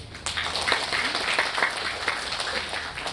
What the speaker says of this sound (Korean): 모두에게 감사의 박수를 부탁드립니다